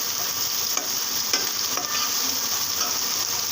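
Onions fry in a pan for a cabbage and egg curry, giving a dense, steady sizzle and crackle that runs unbroken and close throughout, with faint stirring underneath and no voices.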